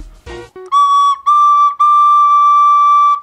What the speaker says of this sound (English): You've never played the recorder?